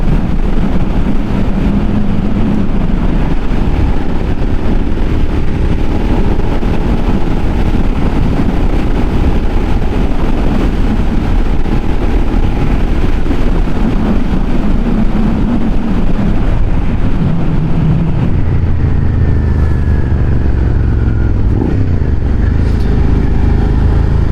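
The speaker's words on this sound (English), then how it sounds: "with this exhaust, it's got a really nice sound. You can hear that twin." A Suzuki SV650 twin-cylinder motorcycle engine drones steadily and loudly for the whole stretch, a deep continuous exhaust rumble with wind noise, slowing slightly near the end.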